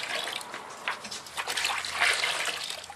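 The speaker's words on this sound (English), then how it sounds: "now we add some more water to our slurry" Water splashes and trickles into a tub of paper pulp slurry, a soft continuous pouring with bursts of splashing, fairly quiet and without talking.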